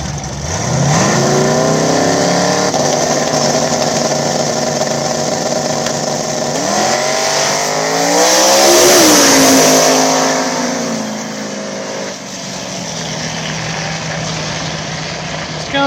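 Drag-racing street cars on slicks launching down a strip: a loud, steady engine roar that climbs through rising revs as the cars accelerate, swelling to a peak, then fading slightly as they pull away.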